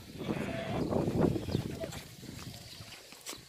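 A goat bleats at a farm selling goats, a close, drawn-out bleat mixed with nearby voices talking over it and softer animal sounds after.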